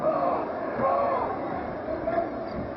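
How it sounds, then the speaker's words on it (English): An NBA arena crowd at a 2006 Houston versus Cleveland game jeers Damon Jones, a broad, distant roar of boos swelling and fading behind steady play-by-play commentary. "And he's hearing it from this crowd."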